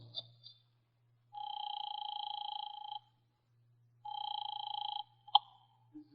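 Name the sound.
telephone dialing and ringing sound effect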